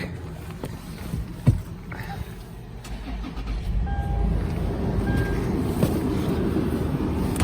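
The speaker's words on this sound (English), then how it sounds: "I will turn on the engine real quick." A 2016 Toyota 4Runner Limited engine cranks with a short bump, then settles into a steady, low idling rumble that continues close by.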